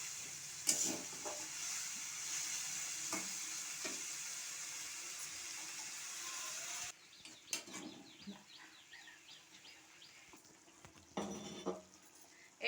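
Thankuni leaf chochchori cooks in a pan with a broad steady sizzle, which drops abruptly partway through as a little water is added, leaving quieter bubbling with occasional clinks and scrapes.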